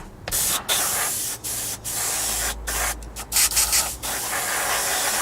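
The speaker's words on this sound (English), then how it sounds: "I'm now going to go over this and get this all nicely sprayed matte" Airbrush spraying a matte coat over a 1/48 scale HobbyBoss F4U-4 Corsair model, a steady close hiss in repeated bursts separated by short gaps, with a low hum underneath.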